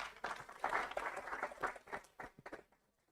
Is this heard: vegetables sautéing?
no